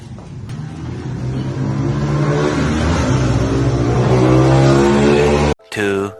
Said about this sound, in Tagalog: So boss, umandar na yung pamontero nyo.